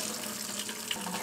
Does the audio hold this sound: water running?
yes